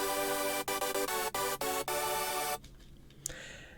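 Hardstyle synth chords played in FL Studio, a bright, dense sustained stack broken into a rhythmic pattern of short and long stabs with brief gaps, then cutting off into a faint tail.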